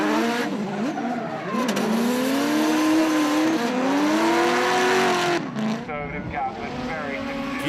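Drift race cars rev hard through a transition at a motorsport event, engine tones climbing and sweeping in loud wavering pitch while tires squeal and skid, with a commentator talking over the roar.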